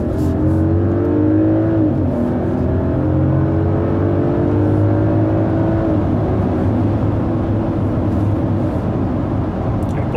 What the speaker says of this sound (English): Car is also now in minus one, so 60, floor it.